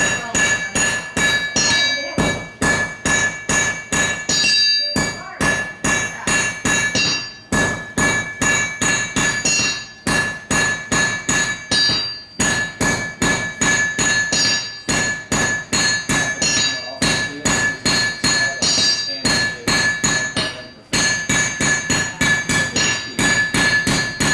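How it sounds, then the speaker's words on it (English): A blacksmith hammers red-hot metal on an anvil at an outdoor heritage festival, a long run of loud, bright, ringing strikes in quick steady rhythm with only brief pauses between bursts. "I'll bring it over my anvil and start going"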